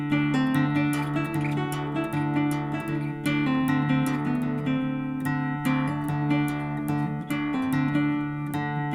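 Solo guitar picks out a Mixolydian scale note by note, each plucked tone ringing clearly, played up and back down at an even pace with no voices.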